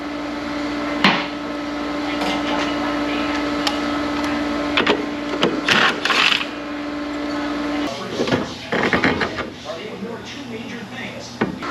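A pneumatic impact wrench works on a 1968 Camaro in a garage, firing short rattling bursts around the middle and later part of the clip over a steady mechanical hum, with a few knocks between them.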